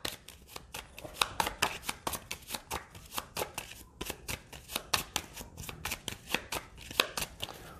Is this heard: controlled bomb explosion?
no